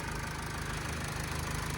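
A 2007 Opel Vivaro van's 1.9 TDI diesel engine idles under the open hood, a close, steady, even chugging rumble with a low rhythmic pulse throughout the short stretch.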